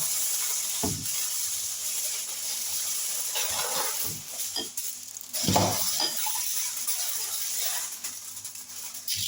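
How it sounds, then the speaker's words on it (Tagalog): Spinach and ricotta filling is stirred in a bowl, giving soft wet squelches and scrapes in irregular bursts over a faint steady background hiss. "Haluin natin. Hanggang sila ay magsama-sama."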